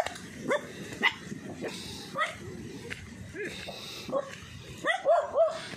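A puppy barks and yips in short sharp bursts amid outdoor chatter, with a cluster of higher yelps near the end.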